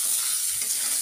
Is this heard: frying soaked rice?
yes